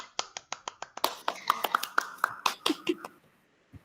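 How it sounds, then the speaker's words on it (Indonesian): Students in a classroom clapping for one another, a sparse run of sharp individual claps that thickens into a brief uneven round before fading out. "Tepuk tangan buat semuanya."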